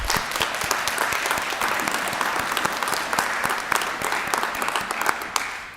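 An audience at a nursing college graduation ceremony applauds, a dense, sustained wash of clapping from a large room that stays even throughout.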